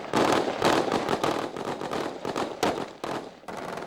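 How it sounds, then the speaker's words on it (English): Combat in Iraq, 2003, as Marine commandos blow open an entrance and fire on those inside: dense, continuous loud gunfire and blasts in rapid overlapping bursts, close and harsh, with no voices. "Alpha Company commandos attack, blowing up the entrance, shooting those inside."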